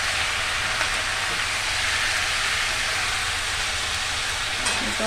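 Egg curry with tomato sauce sautéing in a karahi, a steady broadband sizzle and frying hiss running unbroken and fairly loud throughout, with no talk over it.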